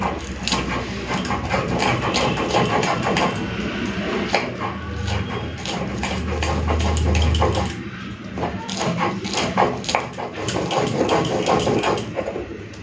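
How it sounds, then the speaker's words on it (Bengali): A mixer grinder grinding spices with green chillies whirs and rattles loudly for several seconds, its motor hum steady with clattering grit, pausing briefly before running again. "এখন মিক্সার গ্রাইন্ডারে দিয়ে বেটে নিতে হবে"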